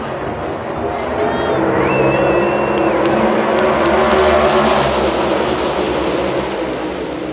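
NASCAR stock cars roaring past at Talladega Superspeedway, heard from the stands as a loud, continuous engine drone that swells and fades, with crowd noise and a faint announcer voice underneath.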